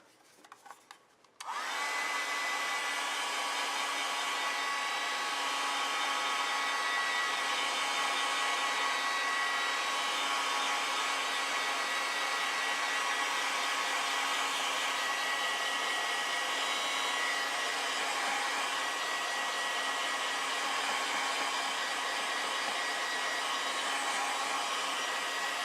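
A hair dryer clicks on after a short pause and blows continuously at close range, a steady airy whine used to dry acrylic paint, running alone without talk.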